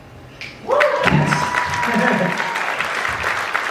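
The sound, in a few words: audience applause at a magic show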